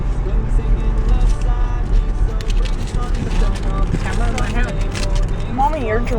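A car is driven along, its low engine and road rumble running steadily beneath close conversation from people inside.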